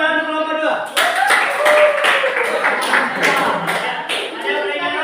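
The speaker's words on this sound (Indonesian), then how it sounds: "Tepuk tangan untuk kelompok 2." Classroom applause for group 2, a burst of many students clapping with overlapping voices chattering underneath, fairly loud and near.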